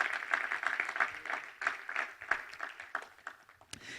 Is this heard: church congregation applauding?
yes